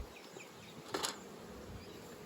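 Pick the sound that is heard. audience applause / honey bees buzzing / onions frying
honey bees buzzing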